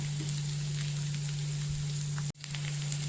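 Capsicum sizzles in a pan for mushroom manchurian, a steady even hiss with a constant low hum underneath, briefly cutting out near the end before resuming.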